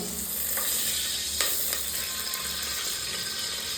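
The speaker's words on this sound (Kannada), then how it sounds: "ಚಕ್ಕೆ ಲವಂಗ ಪದಗೆಲೆ ಸಾರು ಎಲ್ಲ ಹಾಕ್ಕೊಂಡು ಹಂಗೆ ಸ್ವಲ್ಪ ಅಳ್ಳಾಡಿಸ್ಬೇಕು" Whole spices such as cinnamon, cloves and bay leaf fry in hot ghee for a biryani, giving a steady loud sizzle with a few scraping stirs of a spoon, no voices.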